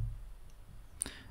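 Single faint computer mouse click, a brief sharp tick near the end of a quiet moment while drawing in CAD software on a computer.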